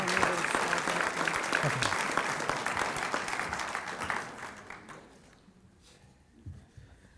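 An audience at a neighborhood awards address applauds steadily and fairly loudly, then the clapping tapers off to scattered claps, with a brief spoken word near the end.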